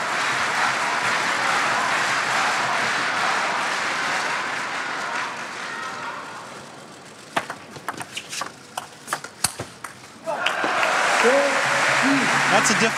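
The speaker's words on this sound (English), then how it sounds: "Chinese bench on its feet. Applauding Marlon." Dense applause from the crowd and bench at a world team table tennis championship in Dortmund, China against Germany, fills the start, fades, then gives way to sharp ball knocks on the table before applause surges again under talk.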